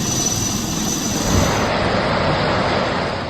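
An army helicopter flies over a flood rescue in Kathua, its engine and rotors making a loud, continuous broadband drone that swells slightly midway, with no voices.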